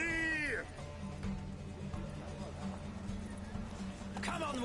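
Horse hooves pound in a steady galloping rhythm during a horse race in The Witcher video game, with whinny-like cries at the start and end and game voices mixed in.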